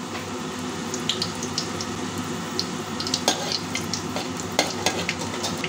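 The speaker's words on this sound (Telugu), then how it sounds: "ఆ మెంతులు దోరగా వేగాలన్నమాట." Fenugreek seeds and three dried red chillies frying in hot oil in a pan, a steady close sizzle with occasional small crackles and stirring clinks, and no talk.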